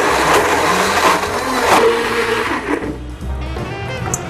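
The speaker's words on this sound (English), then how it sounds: "And you just blend." A blender whirring through frozen mango and greens for a thick green smoothie, a loud grinding roar that shifts in pitch as the contents churn, then eases off toward the end.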